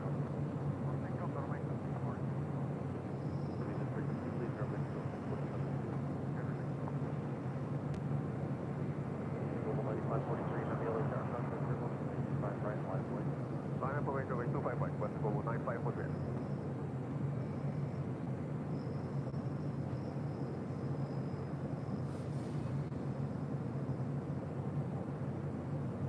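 A Boeing 787 Dreamliner rolls down runway 25 Right at LAX on its takeoff run, a steady, loud broadband jet roar that lasts throughout, with a voice talking over it partway through.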